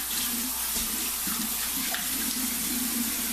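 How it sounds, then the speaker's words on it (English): Cold water from a tap runs into a sink in a bathroom shaving setup, a steady hissing splash that holds unchanged for a few seconds with no voices. "Cold water in."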